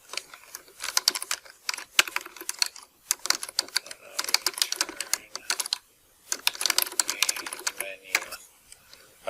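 Fingers type button text on a computer keyboard, producing close, fast bursts of key clicks with brief pauses between words. No one speaks.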